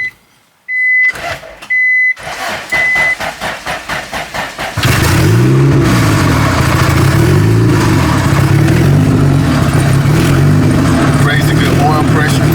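A Honda Civic on a budget build cranks with a few rhythmic starter turns, a chime sounding at first, then catches and settles into a steady, loud idle close by.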